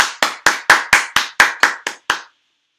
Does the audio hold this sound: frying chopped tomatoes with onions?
no